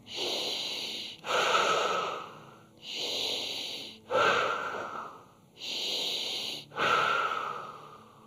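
Heavy, rhythmic breathing during a morning Zaradka fitness class, three slow cycles of long loud inhales and strained, wheezy exhales close up, no talking.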